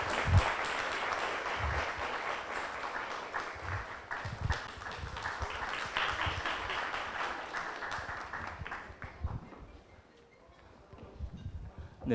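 Indoor audience at a talk concert applauds to welcome two guests, a dense burst of clapping that holds steady, then thins and fades toward the end.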